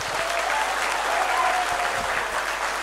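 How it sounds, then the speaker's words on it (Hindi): An audience at a school gathering breaks into strong applause, dense sustained clapping from many hands that holds at an even level throughout. "मैं चाहूंगा कि जोरदार इनके लिए तालियां बजाए"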